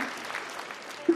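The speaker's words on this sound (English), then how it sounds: "I like the applause." Audience applause during a live discussion show, a steady wash of clapping from a crowd, fairly faint and continuous, with a brief louder thump near the end.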